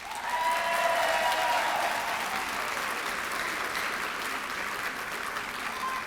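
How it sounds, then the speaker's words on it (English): An audience at a graduation ceremony applauds steadily and loudly, a dense wash of clapping that holds for several seconds without talk. "I'm going to ask you guys to give them a round of applause"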